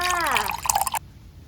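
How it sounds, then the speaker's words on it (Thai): Water poured into a beaker during a simple string science experiment, a short splashing, dribbling pour that cuts off abruptly after about a second, followed by quiet. "แล้วหลังจากนั้นเทน้ำลงไปในนี้เลยค่ะ"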